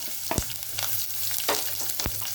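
Chopped onions frying in oil on medium flame for chickpea curry, a steady soft sizzle broken by several sharp scraping stirs of a spoon in the pan.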